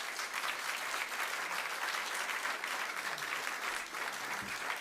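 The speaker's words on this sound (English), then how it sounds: "Perhaps we could have just one more round of applause for the presenters." Steady applause from a conference audience for the presenters, a dense even patter of many hands filling the room at moderate volume with no voices over it.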